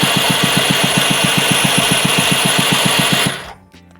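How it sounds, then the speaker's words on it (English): A flooded Jetsurf motorized surfboard engine with its spark plug removed is cranked over, giving a rapid, even mechanical chugging with a high whine, loud and close, then it abruptly stops, leaving faint clicks. "then we're going to put our magnet into the light to crank the engine over"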